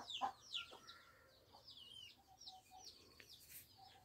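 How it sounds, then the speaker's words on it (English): Baby chicks chirping indoors in a warm enclosure, scattered high peeps and short calls, faint and intermittent over a quiet room. "we keeping the baby chicks in here so they be warm and safe"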